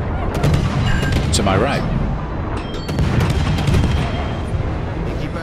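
Naval guns booming in a warship video game, with heavy low rumbling blasts and scattered sharp shots sustained throughout, while someone talks over the battle noise.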